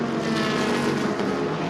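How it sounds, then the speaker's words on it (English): Race car drivetrain whine from a prototype at the 2014 Rolex 24 at Daytona, a steady loud mechanical drone with rising and falling tonal layers as the gearbox steps down under braking, no voices. "I don't know if that's gearbox, if that's the noise of the gearbox as it goes down."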